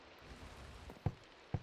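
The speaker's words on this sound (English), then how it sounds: "It's raining and the rain looks funny." Rain falls in the Minecraft FTB Skies modpack as a faint, steady hiss, broken by a couple of soft thuds near the end.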